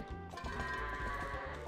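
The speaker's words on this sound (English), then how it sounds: "I think there's 10 goats" In The Legend of Zelda: Twilight Princess, goats on a farm give a sustained, wavering bleat layered over game background sound, moderately quiet with no speech.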